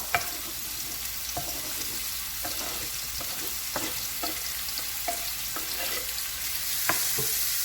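Thinly sliced onions and red pepper fry in a pan with a continuous sizzle, punctuated by regular scraping clicks as they are stirred, close and moderately loud with no talking.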